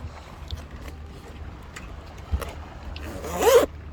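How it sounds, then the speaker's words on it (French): A heavy-duty zipper with a protective cover on a ONE STX drysuit is pulled in one quick, rasping stroke near the end, preceded by faint handling rustles. "Il existe éventuellement une fermeture heavy duty qui est extrêmement solide pour un usage très intensif avec une protection de la fermeture."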